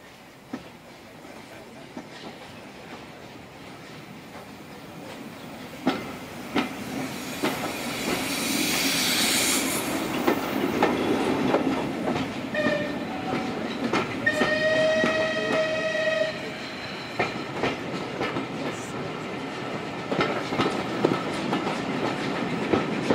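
A steam train at the Swanage steam gala runs past with wheels clattering over rail joints, a burst of hissing steam and a short whistle, building from faint to moderately loud.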